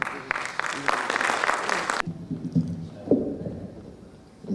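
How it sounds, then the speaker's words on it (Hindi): Audience applause at an Urdu-Punjabi poetry gathering, a dense burst of clapping for about two seconds that cuts off abruptly, followed by quieter room noise and scattered murmurs. "आपकी भरपूर तालियों में"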